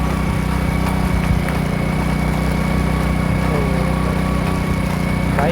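A motorcycle engine strains at low speed while climbing a steep uphill on a delivery ride, a steady, continuous droning hum that stays close and even throughout with no talk over it.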